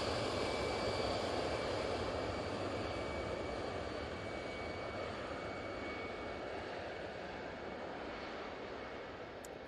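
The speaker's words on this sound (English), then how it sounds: "Brussels Airlines now on the way out" A Brussels Airlines jet in Star Alliance livery departing Manchester Airport produces a steady, broad engine roar heard from a distance, constant throughout with no voices.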